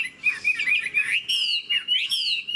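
A Chinese hwamei songbird sings loudly and close during a bird fight, pouring out continuous clear, whistled phrases with rapid trills and short pauses, with no talking.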